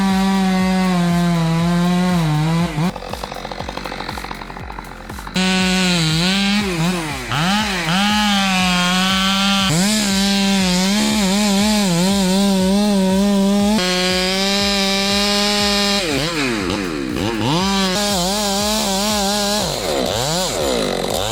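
A chainsaw cuts into wood while a tree is being felled, its engine whining and bogging as it revs up and down in repeated surges, loud and close throughout with no talk.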